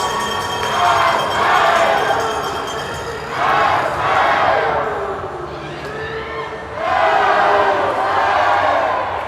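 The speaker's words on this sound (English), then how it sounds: "This crowd loves their runners here, and they are loud tonight." The crowd at a UTSA versus LSU college ice hockey game cheers loudly after a power-play goal ties the score. The roar rises and falls in three big waves of shouting and whooping.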